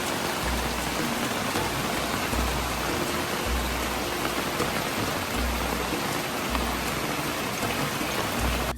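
Heavy rain pours steadily onto a flysheet tarp shelter at a jungle camp, a dense, continuous close hiss with drips and patter throughout and no voices.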